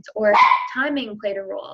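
A pet dog barks and yips close by in a home, a few sharp barks overlapping a person speaking.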